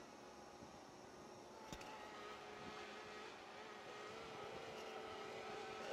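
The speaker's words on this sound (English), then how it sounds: "I can see the drone is just above me" Camera drone hovering directly overhead outdoors, a steady whining motor buzz with a faint tonal hum, fairly distant and continuous throughout with no talking.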